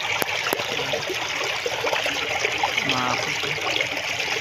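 Water pours steadily through an opened gate into a brackish fishpond where crabs gather, a continuous close trickling rush with a brief word spoken over it.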